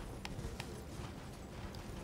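A horse's hooves clop in Elden Ring: Shadow of the Erdtree, a few spaced, muffled hoofbeats over a steady background rumble, fairly faint and without speech.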